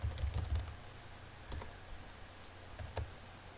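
Fingers type on a computer keyboard in soft, quick clusters of clicks with short pauses between bursts, close and fairly quiet, with no voices.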